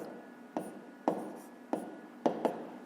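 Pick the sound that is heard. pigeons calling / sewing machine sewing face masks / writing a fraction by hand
writing a fraction by hand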